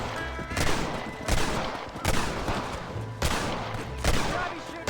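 Several loud bursts of gunfire from the game Red Dead Redemption, each followed by a lingering rumble, with a voice talking underneath.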